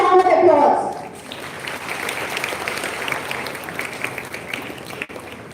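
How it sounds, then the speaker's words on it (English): A large audience breaks into loud applause as guests are welcomed onto the stage at a first-year induction inauguration, following a brief spoken introduction, then holding a steady, dense clapping wash for several seconds. "Let's welcome all on the stage with a big round of applause."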